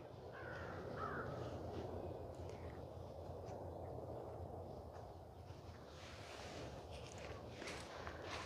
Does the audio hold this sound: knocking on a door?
no